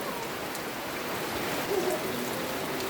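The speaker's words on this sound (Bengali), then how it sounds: "আপনারা দেখতেই পাচ্ছেন এই মুহূর্তে বৃষ্টি হচ্ছে" Steady rain falls in the open in Cox's Bazar on the morning of Eid al-Adha, a dense even hiss with no talk or other sounds.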